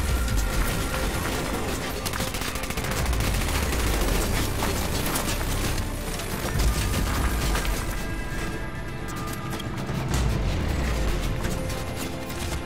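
Heavy gunfire rakes an enemy helicopter's cockpit in the Medal of Honor Warfighter game, a dense, loud, continuous stream of shots and booms layered with battle noise for the whole stretch.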